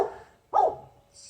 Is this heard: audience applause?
no